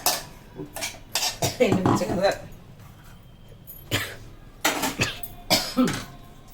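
Several sharp coughs in bursts, close by, mixed with clinking of utensils and kitchen clatter while grinding gongura leaves; a couple of coughs come in quick succession.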